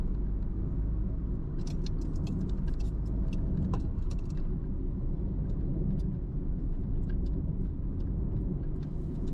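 A car drives along a road, heard from inside as a steady low rumble of engine and tyres with faint rattles and ticks, continuous and without talking.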